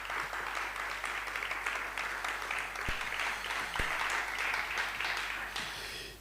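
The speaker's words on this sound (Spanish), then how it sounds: "un fuerte aplauso para ella" An audience at a cultural event applauds a guest speaker. The clapping is steady and fairly distant over a constant low hum, with a couple of brief thumps partway through, before tapering off at the end.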